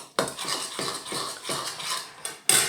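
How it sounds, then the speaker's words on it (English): Spoon mixing a marinade of honey and ginger garlic paste in a bowl, with repeated clinking, scraping strokes in a steady rhythm, close and without talk. "Mix those all together"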